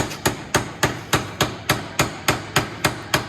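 Steady metallic hammer strikes on Infiniti G37 parts during a long-tube header install, about three per second, a dozen sharp close blows in even rhythm with nothing else around them.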